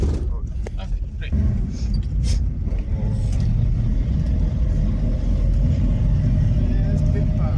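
Steady engine drone and road rumble from a taxi ride, a 12 km trip in Islamabad, Pakistan, running loud and continuous throughout, with some voices in the car.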